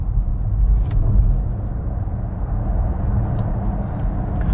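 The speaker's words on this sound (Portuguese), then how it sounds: "O carro simplesmente dispara quando eu finco o pé no acelerador." A Mercedes EQC electric car accelerates hard, a steady low rumble of road and tyre noise that stays loud and even throughout, heard from inside the cabin.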